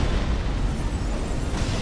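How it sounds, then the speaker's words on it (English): A boss's sword explosion in Dark Souls II: Scholar of the First Sin, a dense, roaring blast of noise that holds loud and rumbling for about two seconds without any speech. "because that's when the explosion is coming"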